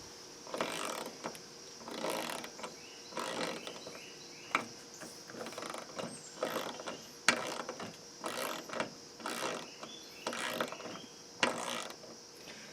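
A Snap-on Dual 80 ratchet wrench is turned back and forth, giving bursts of fine, rapid clicking at a steady rhythm, close and fairly quiet with no talk.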